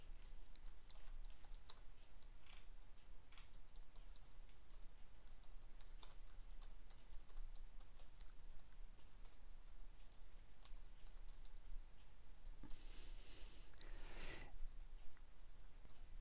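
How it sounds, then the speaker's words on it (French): Typing an email message on a computer keyboard produces a long, steady run of faint, rapid key clicks, with a short louder rustle near the end and no talk. "je tape mon message comme d'habitude"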